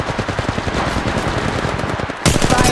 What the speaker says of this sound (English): Contact. Opening fire.